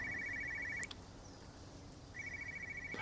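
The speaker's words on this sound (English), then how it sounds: "Ah, that's the phone." A telephone rings in the video game Everybody's Gone to the Rapture, a warbling electronic trill that stops, leaves a short gap, then rings again, moderately loud with no talk over it.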